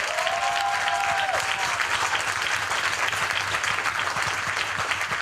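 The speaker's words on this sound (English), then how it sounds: "I would like another round of applause for our songbird." An audience at a primary school award ceremony applauds steadily for a young singer, a full, even round of clapping that carries on without voices.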